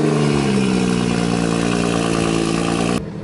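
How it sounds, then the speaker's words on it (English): Tuned BMW B58 engine on a cold start, a loud, steady, droning idle with strong low harmonics that runs continuously before cutting off abruptly near the end. "Really like the cold start on this. It sounds super aggressive now."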